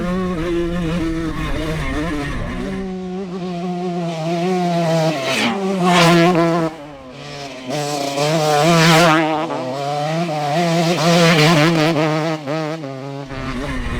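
A 50-year-old iconic 125 motocross dirt bike engine revs hard and close, its pitch rising and falling through repeated throttle bursts and gear changes, with a brief dip midway.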